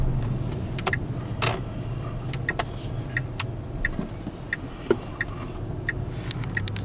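A Tesla Model S electric car drives along, heading for a hill, giving a steady low road and cabin rumble with faint ticks and small bumps throughout, no engine roar and no talking.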